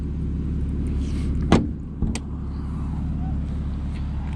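Porsche 981 Cayman GTS idling, a steady low engine drone under two short sharp clicks or knocks about half a second apart, like a door or hatch being handled nearby.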